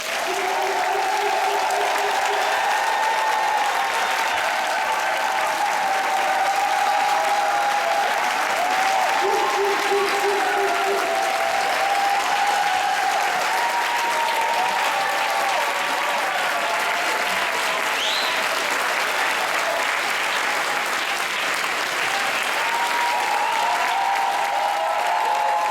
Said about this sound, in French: par applaudissement, s'il vous plaît